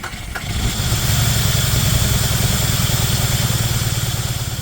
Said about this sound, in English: Let's do our first crank without the fuel pump fuse just to build oil pressure.